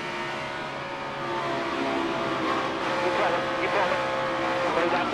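Onboard a NASCAR Cup Series stock car spinning and crashing at Daytona going into turn 3 during the Daytona 500, with a loud engine roar that rises alongside screeching tire and skid noise.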